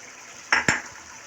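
Two quick clinks and clatters of chicken pieces dropping into a metal cooking pot, the second hit heavier, close by and otherwise quiet, with no talk.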